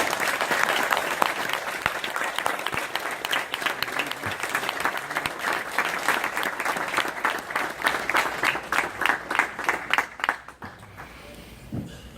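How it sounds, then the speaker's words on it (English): An awards audience applauding warmly for a championship team and its instructor, dense sustained clapping that thins into scattered individual claps before dying away near the end. "Let's give them all a great big round of applause."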